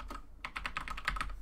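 Quick, irregular run of computer keyboard keystrokes while a password is entered during an Ubuntu 17.04 installation in VirtualBox, crisp clicks close by with no talking.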